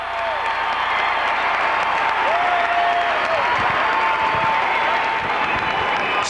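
A packed gym crowd roars through a timeout late in a 2001 Arizona 5A boys state championship basketball game, a loud continuous wall of cheering and applause with whistle-like tones rising above it.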